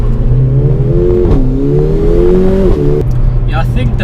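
Mercedes A45 AMG hot hatch accelerating hard from a race start, a loud rising engine note with a quick gear change before revving up again, ending in a lower tone as a voice briefly talks over it.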